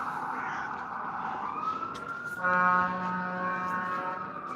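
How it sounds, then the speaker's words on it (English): A siren wails steadily, then shifts to a louder, harmonically rich tone partway through, heard over a continuous background rumble. "Fire engine."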